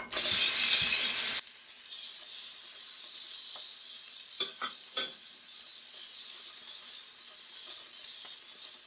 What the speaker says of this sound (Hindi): अब इसी ऑयल के अंदर झींगा डालेंगे, यानी कि प्रॉन